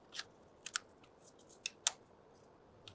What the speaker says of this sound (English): They've got these retaining clips, so you want to grab them and pull them fully out on both sides